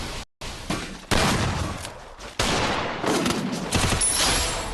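Rapid bursts of automatic gunfire from a shooter video game, loud and close, in several clustered volleys separated by brief silences.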